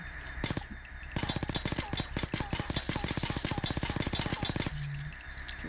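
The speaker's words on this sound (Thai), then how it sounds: "รออันนี้เจาะเสร็จก่อนเดี๋ยวกูจะปิดคลิปละ" A drill boring through a door or safe during a heist in the video game Payday 2, a loud rapid mechanical hammering that pounds steadily for several seconds, with faint talk underneath.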